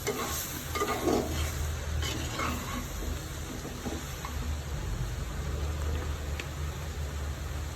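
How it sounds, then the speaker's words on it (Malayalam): Prawn powder thoran is stirred in a pan with a steady, close, rain-like crackle of frying and soft scraping strokes throughout; no talking. "ഒന്ന് ഇളക്കി കൊടുക്കാം"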